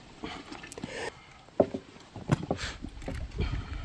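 Fish are tipped from a bucket into a muddy, dirty reservoir, giving close, irregular splashing and sloshing water with sharp plops and gurgles and no talk.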